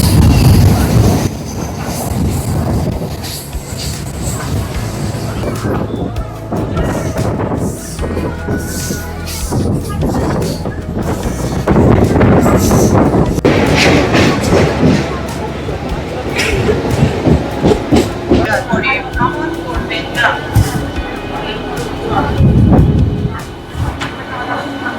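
Santragachi–Digha local train in West Bengal running between stations. A continuous loud rumble of wheels and carriages, with rhythmic rail clatter and an occasional squeal, goes on throughout under a person talking.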